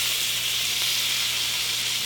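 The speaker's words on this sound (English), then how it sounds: "I'm going to put this right into my butter." Rinsed rice dropping into butter in a pan, with a steady, close, continuous sizzle and hiss that keeps going evenly throughout.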